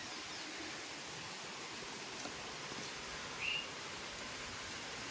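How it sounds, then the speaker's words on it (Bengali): Heavy rain falls steadily outdoors near a house and garden, a dense, even hiss holding at a constant level throughout, with a brief bird chirp briefly rising above it. "জোরে বৃষ্টি এসে গেছে চলো ঘরে যাই"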